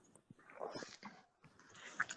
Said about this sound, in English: Hear a dog? hear a dog.